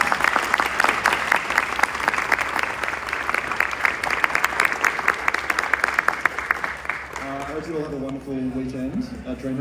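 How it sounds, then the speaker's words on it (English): A crowd claps loudly and steadily for several seconds for a panel at a DreamHack event, then the applause thins out as a voice starts speaking. "could please get a round of applause for our awesome panel."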